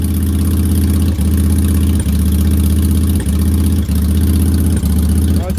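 A 2004 Yamaha V-Star 1100 motorcycle idles steadily after a cold start, its low, loud, even engine throb running the whole time with small periodic stumbles in the rhythm.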